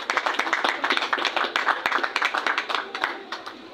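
An audience claps for honoured couples at a commemorative gathering, a brisk, close round of many hands beating in a steady rhythm.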